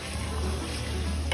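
Cumin and coriander powder stirred into hot oil in a pot while making mutton curry: a steady, close sizzle with soft scraping from the stirring, with no talk.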